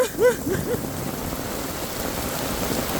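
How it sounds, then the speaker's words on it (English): Steady rain hisses across an outdoor barbecue, a dense even wash of falling water with a few faint drips and splashes near the start. "It's raining everywhere."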